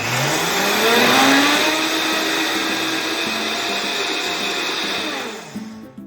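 An inexpensive electric coffee grinder grinds oats into flour, its loud, steady high-pitched motor whine running close for several seconds before winding down and stopping.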